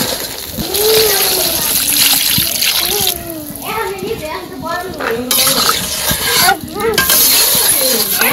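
Water is poured into a pan of village-style chicken curry already sizzling in spices, giving a loud hiss and bubbling splatter with stirring, while adults and someone talk over the cooking.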